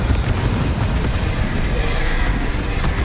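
A Confringo fire spell explodes in the video game Hogwarts Legacy, giving a dense, loud, rumbling blast that fills the whole clip with sustained noise.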